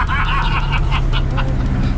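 A truck engine in fourth gear accelerates hard, a steady loud drone with a deep low rumble that runs unbroken for two seconds and rises slightly in pitch.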